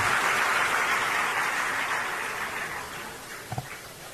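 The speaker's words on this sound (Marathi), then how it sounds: "जोरात टाळ्या वाजवा." An audience claps at a Marathi political speech, a dense burst of applause that starts full and slowly thins and fades, with a couple of last claps near the end.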